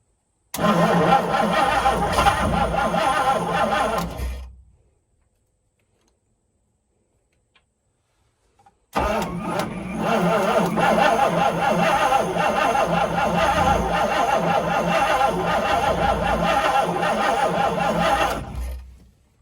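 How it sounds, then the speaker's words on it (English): A Ford 427 engine in a 1967 Chris Craft Roamer yacht cranks without firing, a loud, steady churning starter drone for about four seconds, then a silent pause, then a second, longer crank of roughly ten seconds that stops without catching. "I'm gonna turn on the ignition."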